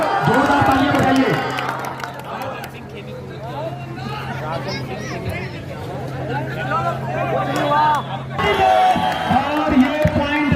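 Spectators at a kabaddi semi-final between Banaras and Ghaziabad clap and cheer, a lively crowd babble with shouting voices over a steady hum, loud and close throughout.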